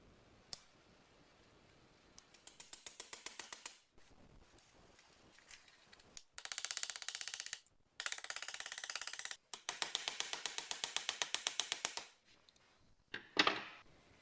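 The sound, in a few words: reassembling the locking mechanism of a vintage food mincer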